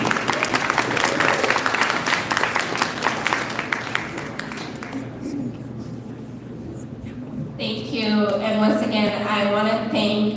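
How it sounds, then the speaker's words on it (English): Audience applause in a hall during an Asian American and Pacific Islander Capitol Day event in Lansing, steady clapping for several seconds that fades before a voice speaks near the end. "A big round of applause, please."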